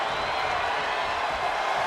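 Arena crowd in WWE 2K25 at a wrestling match, a dense wash of cheering and roaring voices, loud and sustained throughout the short moment.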